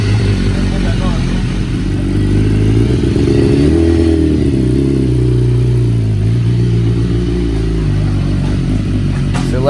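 A BMW sport bike engine runs on a dyno, its loud, continuous low throbbing roar shifting in pitch as the revs rise and fall, close and dominant throughout.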